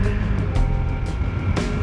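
A motorcycle engine drones steadily while riding, a continuous low close rumble mixed with wind rush, heard on its own with no talk.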